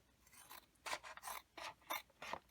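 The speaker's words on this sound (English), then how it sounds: "The next thing you want to do is to just cut up the sides and then start making your plant tags." Scissors snipping through thin plastic to make garden plant markers, a run of crisp rasping cuts in uneven bursts, close up and fairly quiet, with no voices.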